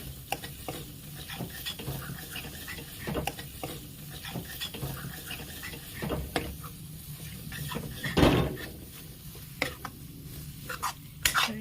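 Mashed potatoes fry for a rajma dish in a pan on a medium gas flame, a soft, steady sizzle under repeated scraping and stirring strokes, with one louder clatter of utensil on metal midway.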